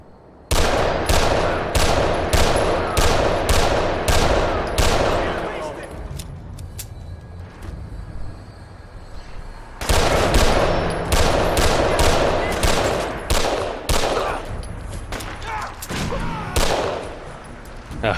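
Gunfire in the video game Fallout 4: two loud bursts of rapid repeated shots, each several seconds long, separated by a quieter stretch, with a voice talking in between.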